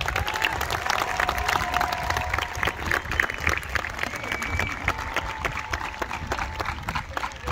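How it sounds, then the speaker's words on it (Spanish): A crowd at an outdoor band award ceremony for school marching bands gives sustained applause, dense clapping throughout at moderate loudness, with a faint voice briefly in the background. "Un fuerte aplauso."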